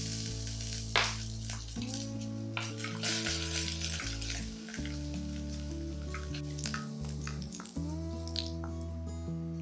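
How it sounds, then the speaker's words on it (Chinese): Scallions and ginger sizzle in hot oil in a wok, a loud, steady frying hiss with bursts of crackle, set against a sustained tonal hum from a kitchen appliance or background music. "先把锅烧热，锅里放一点油，放入葱姜炝锅。"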